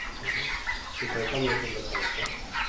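Chickens and chicks cluck and cheep on a poultry farm, a faint, steady chatter of overlapping calls with soft background noise and low voices.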